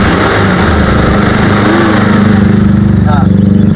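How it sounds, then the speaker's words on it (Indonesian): Engine of a 2006 Daihatsu Zebra ZL9 revved to high RPM, a loud continuous buzzing drone close by, with someone talking over it. "suara di RPM tinggi itu normal, hilang, tidak ada masalah"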